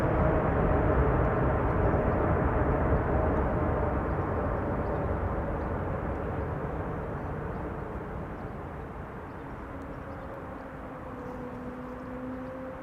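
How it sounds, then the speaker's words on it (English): Broad, steady roar of a landing airliner with thrust reversers deployed at Schiphol runway 06, loud at first and slowly fading, with a faint rising engine tone emerging near the end. "Reversers applied."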